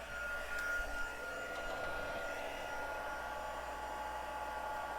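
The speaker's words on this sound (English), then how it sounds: "I'm going to turn on my heating tool so that could start warming up" An embossing heat tool warms up with a steady, quiet blowing hiss and faint hum, continuous and unchanging throughout with no talking.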